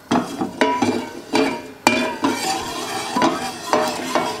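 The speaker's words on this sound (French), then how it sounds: "dans la poêle tiède, on verse la vinaigrette pour la faire réchauffer un petit peu" Vinaigrette is warmed in a frying pan that is only warm, with a faint sizzle under repeated sharp scrapes and clinks of a utensil against the pan as it is stirred.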